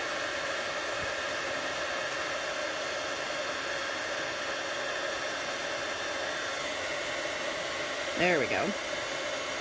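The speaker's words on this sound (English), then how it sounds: "Heat embossing." Heat embossing tool blowing hot air over a stamped paper craft, a steady broadband whoosh running throughout, with a brief voice near the end.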